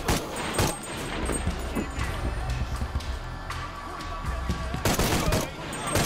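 Gunfire from Shadow of the Tomb Raider gameplay, with repeated sharp shots and bursts spread across a few seconds, some close and loud, while a voice talks over the action.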